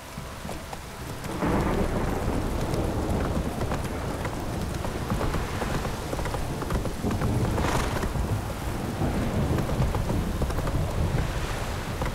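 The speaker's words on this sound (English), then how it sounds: "This downpour's a bastard, it is." Heavy rain and a thunderstorm in The Witcher 3: Wild Hunt, with a steady downpour and rumbling thunder swelling over it, while horse hooves clip-clop along through the storm.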